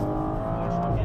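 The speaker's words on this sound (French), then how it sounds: "j'aime trop comment le moteur il gueule" A BMW M135i with a stage 1 tune roars hard under acceleration, a loud steady engine drone with rising harmonics recorded from inside the car, with voices talking over it.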